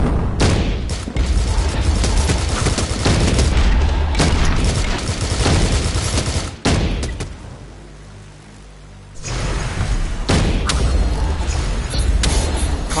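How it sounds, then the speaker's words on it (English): Rockets and gunfire in the VR shooter game Sairento, a dense barrage of loud booms and blasts that fills most of the stretch, drops to a quieter lull near the end, then bursts back in. "Oh, rockets, he's firing rockets."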